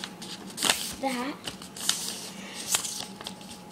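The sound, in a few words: paper being folded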